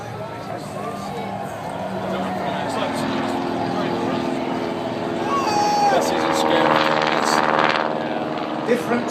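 A WWI reconnaissance aircraft flies overhead during an air display at the Sonisphere festival, its engine droning steadily and swelling louder around the middle before easing off, mixed with crowd noise and a voice speaking over it.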